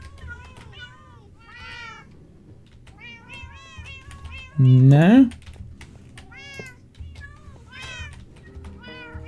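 Cat in the Minecraft video game letting out one loud, rising meow midway, close and prominent, amid someone talking sporadically and clicky keyboard typing before and after.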